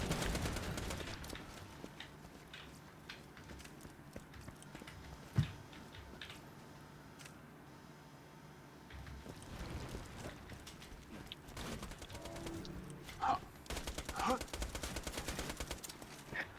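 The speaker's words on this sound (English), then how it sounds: "This SMG kicks so much on the first few shots before it stabilizes." SMG gunfire in Borderlands 2, rapid bursts of shots with some sharp cracks, mid-level and fairly close, scattered across the clip with quieter gaps between volleys.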